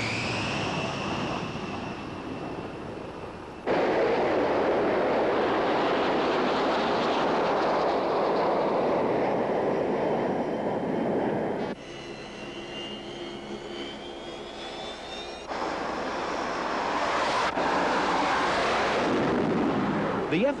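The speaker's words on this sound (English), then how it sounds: "The F-18 Hornets scatter over the Gulf almost every day, providing air cover for reflagged tankers in the Strait of Hormuz" F-18 Hornet fighter jets flying over the Persian Gulf, a loud sustained roar of jet engines with shifting intensity and abrupt changes as the aircraft pass close by.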